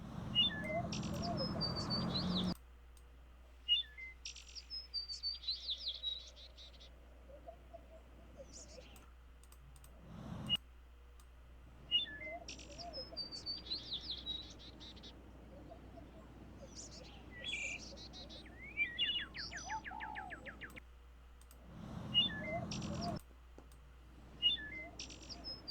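Birds chirp in a Nancy Drew game: bright, short tweets come in scattered bursts over a low steady hum, broken by brief silences and keyboard-like clicks, with a voice talking faintly at times.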